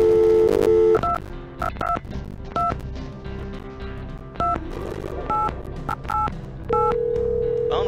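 In the game Shivers 2, a telephone number is keyed in as a run of separate touch-tone beeps in uneven rhythm, followed by a steady dial tone at the end, loud and close.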